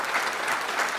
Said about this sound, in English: Join me again for a round of applause for our Governor